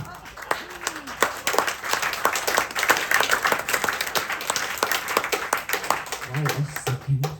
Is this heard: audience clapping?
yes